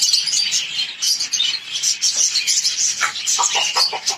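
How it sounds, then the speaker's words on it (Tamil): African lovebirds, finches and budgies in a cage on a terrace bird farm chirp steadily, a dense overlapping chatter of high tweets close by with no talking. "இந்த கேஜில் வந்து ஆப்பிரிக்கன் லவ் பேர்ட்ஸ் வச்சிருக்கோம்."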